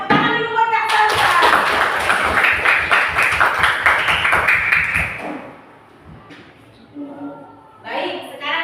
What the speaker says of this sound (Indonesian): Beri tepuk tangan dulu buat Kak Salsa